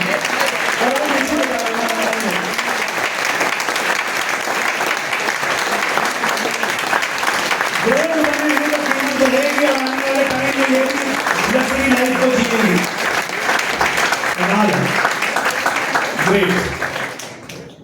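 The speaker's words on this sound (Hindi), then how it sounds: "एक बार जोरदार तालियां बजाएंगे" An audience at a stage event applauds loudly and steadily for about seventeen seconds. A voice talks over the clapping in a couple of stretches, and the applause thins out at the very end.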